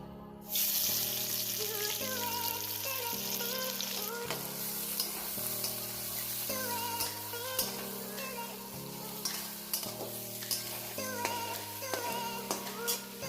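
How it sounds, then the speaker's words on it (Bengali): Onions sizzle steadily in a wok after potatoes are fried, with rhythmic stirring scrapes and occasional clinks over continuous frying hiss. "এবারে পেঁয়াজটা ছাড়ছি।"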